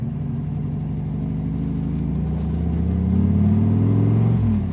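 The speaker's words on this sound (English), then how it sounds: "The only mechanical noise you hear really is the exhaust." A 1999 Shelby Brock Daytona Coupe's exhaust while driving, a loud, deep, steady rumble heard from inside the car that swells as the engine pulls harder through the mid-range.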